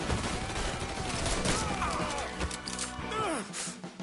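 Rapid gunfire bursts and impacts in the Mafia 3 video game, dense and continuous through a busy firefight mix with overlapping crashes and game noise.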